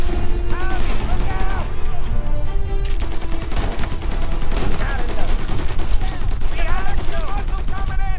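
Tommy gun fire in Mafia: Definitive Edition, loud close bursts of rapid automatic rounds rattling continuously through a chaotic gunfight, with a voice talking over the shooting.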